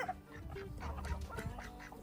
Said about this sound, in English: That's one of our hens that is now cock-a-doodle doing.